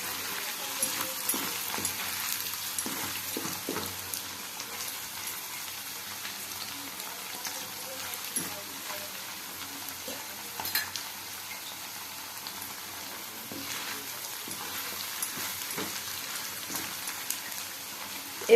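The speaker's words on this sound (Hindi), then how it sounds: "कढ़ाई रे तेल को गरम करिबा और एथरे पनीर को पकाई अल्प समय भाजी नबा" Paneer frying in hot oil in a kadhai, a continuous crackling sizzle with scattered pops, close and steady throughout.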